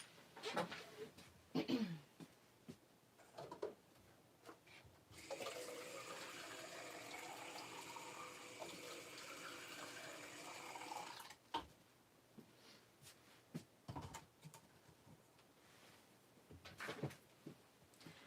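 Water runs from a tap for several seconds, a steady hissing stream filling a container, framed by quiet handling clicks and knocks before and after.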